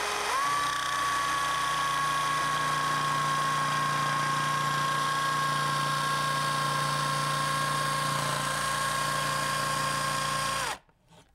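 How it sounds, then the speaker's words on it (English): A jigsaw fitted with a thin scrolling blade cuts a tight corner in wood, a steady loud motor whine with a buzzing blade held for about ten seconds before stopping abruptly. "there's no way I could be cutting this tight of a corner unless I had a scrolling blade in"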